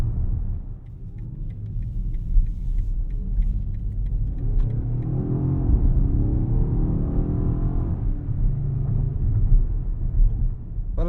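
A 2024 BMW XM SUV rolls along a bumpy back road, its engine giving a steady low rumble inside the cabin with tire and suspension thumps and a swell of revving midway, loud and continuous.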